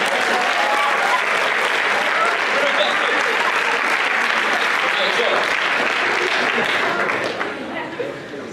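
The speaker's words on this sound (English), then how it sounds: "Give her a round of applause." An audience at a leadership summit breaks into loud, sustained applause, dense clapping from a crowd that holds steady before starting to taper off at the end.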